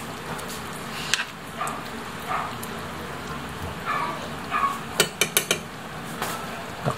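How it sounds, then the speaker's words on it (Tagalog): A metal spoon scrapes and clinks against a cooking pot while laing (taro leaves) is stirred, with soft scattered clatters early and a quick run of sharper knocks near the end over a faint background hiss. "Ayan, haluin na natin ng konti."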